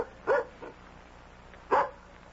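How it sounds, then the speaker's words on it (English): A dog barks twice at the door in a 1976 CBS Radio Mystery Theater drama, two short, loud, well-separated woofs over a quiet room-tone background. "It's just the dog."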